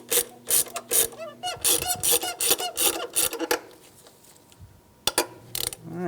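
A hand ratchet with a 12 mm socket tightens the throttle body bolts on a 2003-2011 Honda Element in bursts of rapid clicking, with a pause and then a few more clicks near the end.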